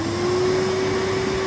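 A 2006 twin-motor Henry vacuum cleaner runs steadily after being switched on, a loud, close, even motor whine with a constant low hum and broad airflow hiss throughout.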